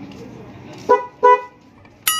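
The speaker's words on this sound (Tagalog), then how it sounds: "Busina niya." Horn of a Yamaha Mio Sporty motorcycle, a newly bought one with a horn issue, sounding two short close beeps in a row over a faint background.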